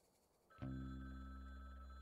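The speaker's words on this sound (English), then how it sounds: "This is a random phone on the street. Why do you assume it's ringing for you?" A street phone box in the Frog Detective 3 video game begins ringing partway through, a loud, sustained bell tone that starts abruptly and holds steady to the end.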